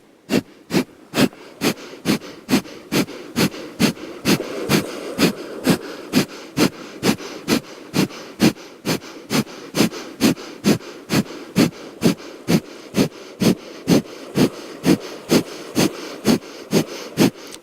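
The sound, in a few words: breath of fire rapid yoga breathing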